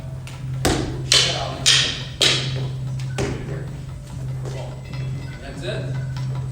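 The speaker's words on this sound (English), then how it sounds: "Right now they're meeting the force where the weapons collide, and now they're following the force." Practice weapons collide during a martial arts flow demonstration, giving about five sharp wooden knocks in an uneven rhythm over the first few seconds, with a low hum and people talking underneath.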